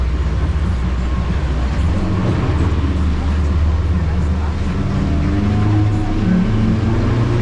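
Twin 200 outboard engines on a boat give a loud, continuous low rumble that builds slightly as the throttle opens, close and steady throughout, with faint wind and water noise.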